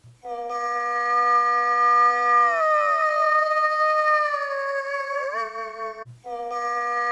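A grainy synth tone from a UVI Falcon 2 granular oscillator sustains as a bright, harmonic-rich note that bends and glides in pitch, then cuts off briefly and resumes. No one speaks over it.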